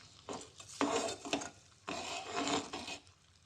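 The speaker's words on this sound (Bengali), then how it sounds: "এখন আমি একটা চামচ দিয়ে নেড়ে দেবো হালকা" Spoon stirring caramelizing sugar in a pan, heard as two bursts of close scraping and rubbing strokes with a soft sizzle underneath, separated by a brief pause.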